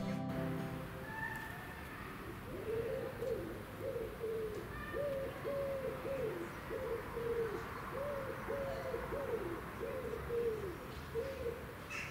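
Soft, hollow collared dove coos repeat in a steady rhythmic series, a few notes per phrase, moderately near against faint outdoor background hiss.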